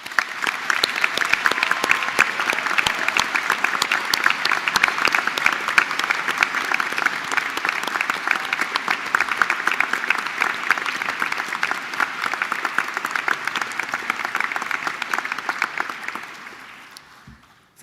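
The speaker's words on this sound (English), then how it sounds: "you deserve a warm round of applause" Sustained loud applause fills a university graduation hall, a dense, steady crackle of many hands. It continues evenly for about sixteen seconds before tapering off at the end.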